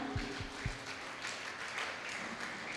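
A group at a summer camp gathering applauds for the people who served food, a moderate, fairly distant patter of clapping that carries on steadily, with a few low thumps near the start.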